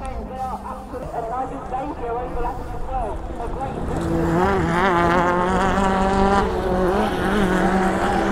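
Race cars at the Lydden Legends Festival circuit, engines droning and rising in pitch as they pass, growing louder midway, with a voice talking over them.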